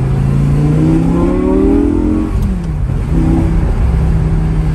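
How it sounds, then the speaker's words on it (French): A Lamborghini V10 engine revs and roars loudly, pitch climbing then dropping as it shifts, a deep mechanical growl filling the whole stretch. "Ce son Lamborghini incroyable, c'est dingue."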